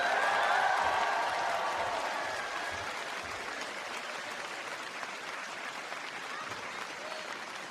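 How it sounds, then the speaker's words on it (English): At a Faculty of Science graduation ceremony, an audience claps for graduate Grace Zhu. Dense applause starts loud and slowly tapers to a softer, sustained patter over several seconds. "You get the biggest applause."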